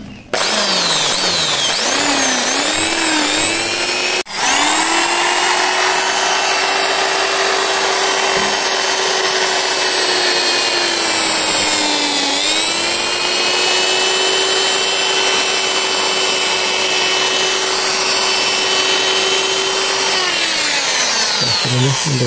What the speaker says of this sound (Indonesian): ini nanti saya bor dulu